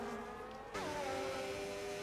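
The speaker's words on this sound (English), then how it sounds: "He's thinking about getting past the Mercedes, as Anson also gets past, and Alfie's out!" F2 race cars in a racing video game on the Brazil circuit, a continuous high-pitched engine whine that jumps in intensity partway through as another car revs up and passes, sustained and fairly faint.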